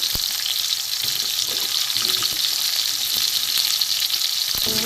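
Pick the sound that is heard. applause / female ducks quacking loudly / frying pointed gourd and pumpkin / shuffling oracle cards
frying pointed gourd and pumpkin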